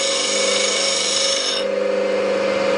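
A woodturning skew chisel is ground on a sharpening wheel, giving a steady, loud continuous whine with an even grinding hiss throughout, close up and with no voices.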